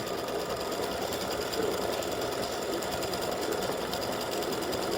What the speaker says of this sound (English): It's doing the satin stitching around it to help hold the stitches together.